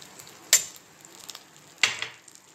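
Raisins and coconut stirred in a frying pan while making semolina gujiya: two sharp scraping strokes stand out against a soft, steady sizzle, with no talking.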